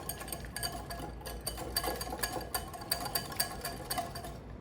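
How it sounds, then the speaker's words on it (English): A sauce is whisked in a bowl for Mexican street corn salad, giving a quick, rhythmic ticking and clattering of the whisk against the bowl, fairly faint and close. "All I'm gonna do now, just give it a good whisk."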